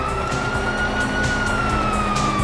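Police sirens wail in the video game Grand Theft Auto 5, a loud, continuous rising and falling tone over a rumble of car engines and traffic.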